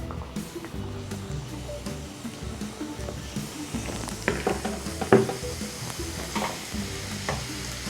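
Golgappa puris fry in oil on a low flame, giving a steady sizzle and bubbling throughout, with occasional light scrapes and stirs of a utensil in the pan.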